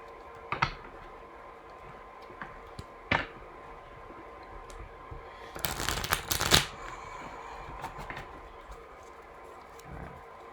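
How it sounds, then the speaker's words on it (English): A tarot card deck being shuffled in a quiet room: a few soft riffles and taps, then a dense burst of card flicking, followed by scattered light clicks. "we'll go ahead and shuffle this a few times"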